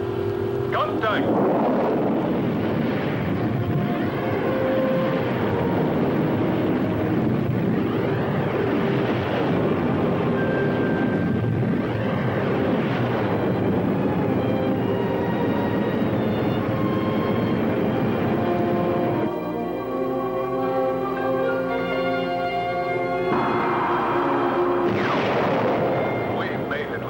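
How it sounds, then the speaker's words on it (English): Spaceship engines from a 1960 science-fiction film, a loud continuous rumbling roar with shifting whines and tonal hums that drops to a different droning texture near the end. "Engines at maximum speed."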